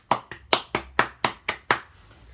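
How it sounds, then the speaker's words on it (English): Eight crisp single hand claps in an even rhythm, close and isolated against quiet, ending with a short silent tail. "Let's give Manly a round of applause."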